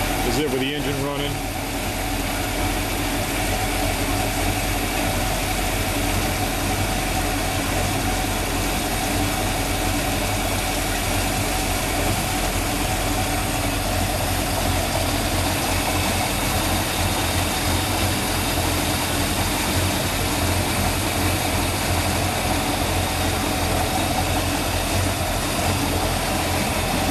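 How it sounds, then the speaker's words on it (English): A steady, continuous pursuit boat engine idle drones on, low and even throughout, with a faint mechanical hum and no breaks. "This is it with the engine running."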